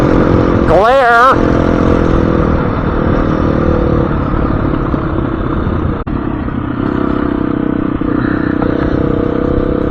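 A Husqvarna FE350s motorcycle is ridden at a steady cruise, its engine droning close under buffeting wind, with a short revving swell near the start.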